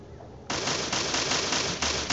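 A weapon in the Free Fire video game fires a rapid, even burst of shots that bursts in loudly after a quieter lead-in and keeps a fast rhythmic rattle to the end.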